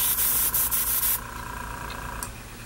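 Airbrush hissing close up as base coat goes onto a Baldwin Motion Camaro, a steady loud spray with brief pulses that cuts off sharply, then a quieter hiss and a short final burst.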